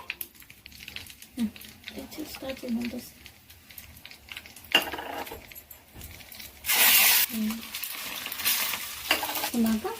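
Cumin, lentils and dried red chillies fry in a hot pan with steady close sizzling, scraping stirs and occasional louder hissing bursts, while someone talks over it.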